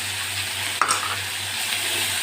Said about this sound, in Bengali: এটাকে আমি নেড়েছিলাম একটু কষিয়ে নেব